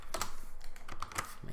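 Rapid typing on a computer keyboard, with a quick run of close, crisp key clicks in an uneven rhythm.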